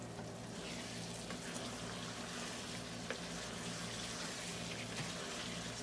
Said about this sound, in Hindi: चावल के पानी ड्रेन करते हैं।